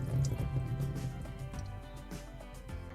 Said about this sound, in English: We're just going to drain them into the sink.